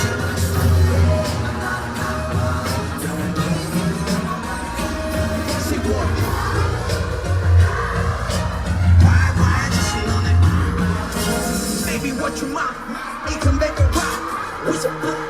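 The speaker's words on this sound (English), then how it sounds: "Crowd crazy." A concert crowd at a show cheers and yells loudly and without a break, a dense wall of screaming voices with bursts of whooping rising over it.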